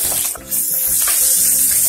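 Loud, steady sizzling of crushed garlic frying in hot cold-pressed oil, with a brief dip before the crackle swells again close up.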